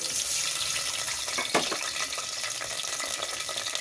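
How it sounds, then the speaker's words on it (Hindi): A little water goes into a hot frying pan holding tomato, grated ginger and fenugreek seeds for a potato and pointed gourd curry: a brief splash midway over a quiet, continuous background hiss. "थोड़ा सा पानी जाएगा"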